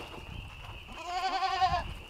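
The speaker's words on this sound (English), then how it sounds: "Spanish goats and Daisy are ready for their dinner." A Spanish goat gives one clear, wavering bleat near the barn at feeding time, close and fairly loud over faint background noise.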